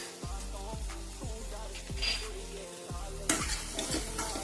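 Onion, tomato and turmeric for egg bhurji sizzle in a pan while a spoon stirs in steady, repeated strokes, each scrape landing close and clear over the constant frying hiss.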